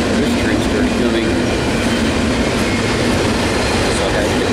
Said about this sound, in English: then this train started coming